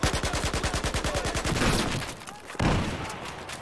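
Rapid automatic gunfire from the video game Battlefield 4 rattles in an even burst for about a second and a half, then breaks into a few scattered louder shots, with no talk over it.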